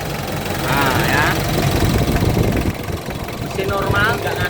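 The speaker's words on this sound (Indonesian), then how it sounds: "mesin normal, nggak ngasep ya teman-teman." A 2004 Mitsubishi Strada L200 4x4 double-cab engine idles with its oil filler cap removed, a steady loud mechanical rumble with fine knocking texture running throughout while someone talks over it.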